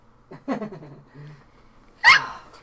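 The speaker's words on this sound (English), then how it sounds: "Hey, hiccups." Hiccups from a person, a few soft breathy catches followed by one sharper, louder hiccup near the end, close by in a quiet room.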